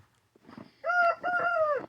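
A rooster in a Canadian winter farmyard crows once nearby, a loud, drawn-out call in two rising and falling phrases, preceded by a few soft clucks from hens.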